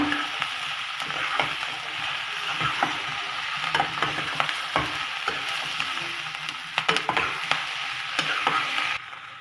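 Cubes of paneer stirred and fried in a pan for chilli paneer: a bed of soft sizzling broken by irregular scraping strokes and light knocks of the spatula, up close with no talking.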